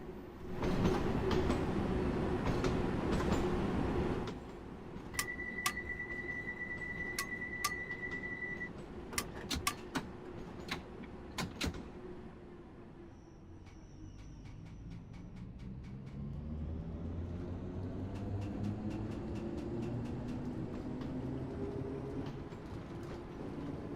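A London Underground train runs in the game Train Sim World 3 with a loud rumble at first. Clicks and a brief high tone follow, then the motor whine rises as the train picks up speed, with steady clickety-clack.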